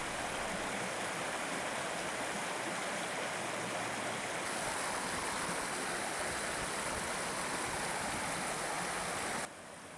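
Colden Water stream in the South Pennines, near Hebden Bridge, running beneath an old stone clapper bridge, a constant broadband rush of flowing water, steady and fairly close throughout, with no voices.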